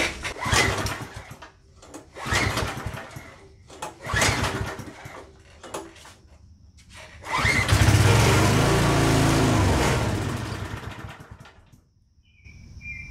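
Small MTD tiller engine with a rusty tank and bad carburetor sputtering on choke, firing in several short uneven bursts before catching into a longer loud run that fades and dies out, close by and without talk.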